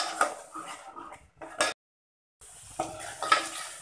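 Masala sautéing in oil over a low gas flame, with bursts of stirring and soft sizzle, a short silent gap, then more scraping and frying.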